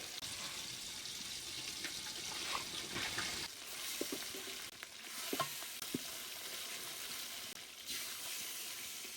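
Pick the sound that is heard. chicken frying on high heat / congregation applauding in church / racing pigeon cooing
chicken frying on high heat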